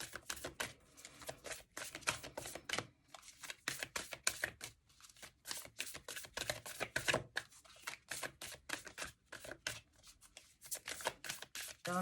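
Oracle cards are shuffled clumsily by hand, giving a dense run of quick, crisp riffling slaps and flicks in irregular bursts, close and fairly faint, with no talking.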